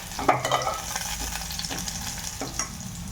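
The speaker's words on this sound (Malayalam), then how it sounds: "അതിലേക്ക് നമ്മൾ അരിഞ്ഞു വെച്ചിരിക്കുന്ന സവാള ആഡ് ചെയ്തിട്ട് നന്നായിട്ട് വഴറ്റി എടുക്കാം" Onion sautés in sunflower oil with spices for a soya chunk biryani, a soft constant sizzle punctuated by a few distinct scraping stirs of a spoon against the pan.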